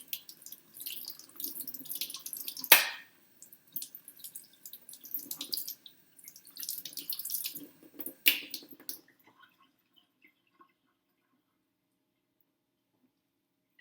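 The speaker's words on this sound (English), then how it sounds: "Okay, now I rinse." Tap water running while hands are rinsed at a sink: a close, steady splashing stream broken by brief drips and hand movements, then the flow stops and the rest falls almost silent.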